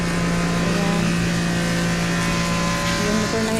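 A motorcycle engine runs steadily at close range outdoors beside a house, giving a continuous, even hum with a low buzzing tone and no breaks or changes in pace.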